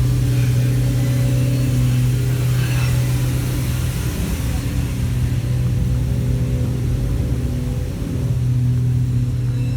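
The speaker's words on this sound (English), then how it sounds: "we have some cars that are going out to the circuit" Cars pull out onto the Tocancipá racing circuit for practice, a classic Porsche among them, their engines making a steady, continuous drone that stays close and loud throughout.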